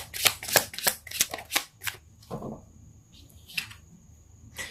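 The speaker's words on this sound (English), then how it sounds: "So let's pull a card for your physical space and see what comes up." Tarot cards being shuffled and handled: a quick series of crisp riffling bursts at close range, then softer sliding and a few light flicks as cards are pulled.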